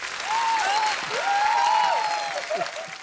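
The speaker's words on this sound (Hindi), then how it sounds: "जिन जिनको बात अच्छी लगी जोरदार तालियां।" A studio audience at The Kapil Sharma Show comedy show breaks into loud applause, with rising, wavering whoops and cheers riding over the clapping for about three seconds.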